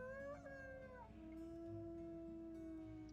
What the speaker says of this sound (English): There goes that geode pack howling down there.